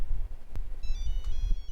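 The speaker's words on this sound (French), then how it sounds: "Téléphone." A phone rings in a video game, a short electronic ringtone with a bright repeating tone over low background rumble and a couple of sharp clicks.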